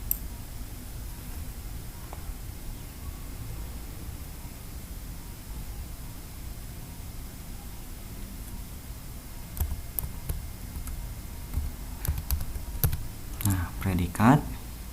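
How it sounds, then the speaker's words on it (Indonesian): Keys clatter on a computer keyboard as a name is typed into Excel's name box: faint, scattered clicks over a soft hiss that grow busier and louder toward the end. "Kemudian kita ketikkan pada name box itu predikat."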